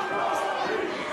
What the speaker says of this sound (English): The crowd chanting, Tony!